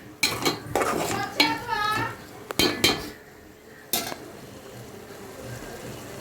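Coconut prawn curry being stirred in a pan, several loud metallic scrapes and clanks of a spoon against the pan in quick bursts, close up, fading to a quiet low background before a final knock.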